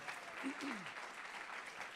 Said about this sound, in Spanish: Si tú lo crees, dale un aplauso fuerte al Señor.